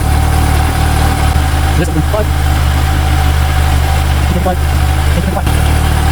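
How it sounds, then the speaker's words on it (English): A Mikuni BDST 38 carbureted motorcycle engine idles steadily during carburetor synchronization, with a couple of brief, abrupt revs rising over the loud, continuous low engine drone while a person talks over it. "then we rev once, twice abruptly to make sure that we're not pushing any of the shafts in an imbalanced way."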